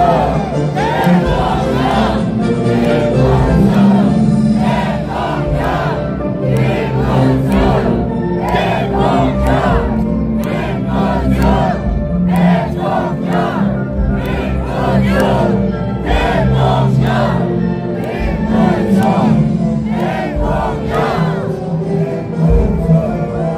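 A big outdoor rally crowd in front of Seoul City Hall chants the name Kim Moon-soo in loud, rhythmic bursts, many voices shouting together in repeated beats that carry on without pause.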